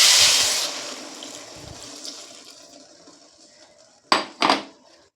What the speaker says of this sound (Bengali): এখানে আমি দিয়ে দিচ্ছি 1 বাটি জল